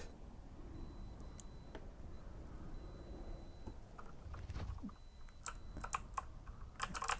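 A computer keyboard is typed on while the game Dragonflight is played. Its keys give faint, scattered clicks that gather into a quicker, louder run of taps near the end over a quiet background.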